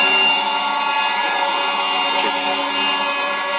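The fan of a GAZ 51 wood-gas generator burning wood pellets runs in a garage, giving a steady, loud mechanical whine with a dense, even hum that stays constant throughout.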